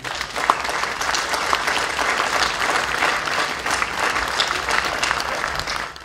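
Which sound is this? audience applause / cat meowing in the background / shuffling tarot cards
audience applause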